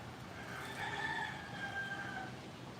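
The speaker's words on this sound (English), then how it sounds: "Oh, there's the rooster." A rooster crows at a moderate distance, one drawn-out cock-a-doodle-doo rising and holding over steady outdoor background noise, fairly faint and with no talking over it.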